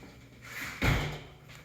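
Hotel bathroom door with a faulty lock at Hotel Indigo Baltimore, swung shut with a single solid thud after a softer handle movement, close and fairly loud in a quiet room.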